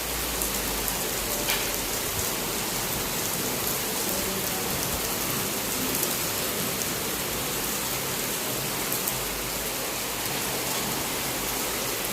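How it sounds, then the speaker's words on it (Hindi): Heavy rain pours down steadily, a dense continuous hiss with no pauses, loud and close, nothing else audible over it. "यहाँ पे तेज़ बारिश शुरू हो गई है।"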